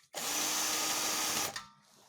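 Power tool unbolting long transmission bolts from a Škoda Superb 2 with a CBBB engine, a single loud, steady whirring run lasting over a second close by, then a brief spin-down.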